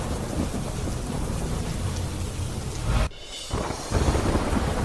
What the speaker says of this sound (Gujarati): જૂનાગઢમાં કેશોદમાં પડ્યો ધોધમાર વરસાદ.